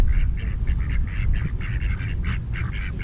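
Swans at a lake honk repeatedly in a dense, overlapping chorus of nasal calls, close and steady throughout over a low rumble of outdoor background noise.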